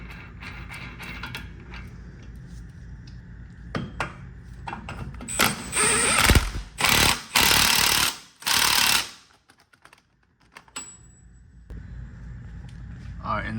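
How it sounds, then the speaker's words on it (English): Impact wrench bursts tightening an axle nut on a 2015 Chevy Sonic during lower control arm replacement, several loud rattling bursts in a row at close range, with some speech before and after. "we're gonna go ahead and put this axle nut back on."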